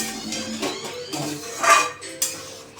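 A bowl being rinsed with water in a kitchen while mutton curry cooks in a pan, with soft clinks of dishes and a brief splashy burst near the middle, fairly close and moderately quiet.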